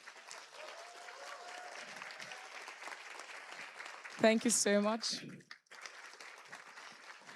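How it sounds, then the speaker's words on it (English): Soft, distant applause from an audience at a university thesis presentation final, steady for several seconds before a person speaks a brief thanks up close. "if I can ask the audience to please give them another round of applause"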